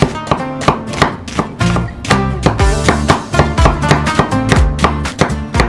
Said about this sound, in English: We will take 3 small onions, just slice it.